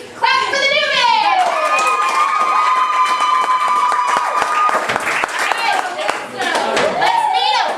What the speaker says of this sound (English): Clap for the newbies!